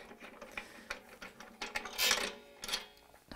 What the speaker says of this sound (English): So I'm loosening my resonator screws off of the side of the flange.